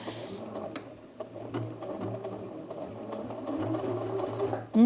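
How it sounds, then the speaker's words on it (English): Sewing machine stitching over a bulky French seam on a ruffle, a steady rapid mechanical chatter that labours and slows slightly at points, ending with a louder clunk. "Quite a lot of material to sew over."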